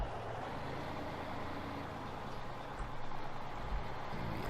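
A truck's engine rumbles steadily as it drives along in Farming Simulator 15, a low continuous drone with faint bumps and rattles, moderate in level with no talk.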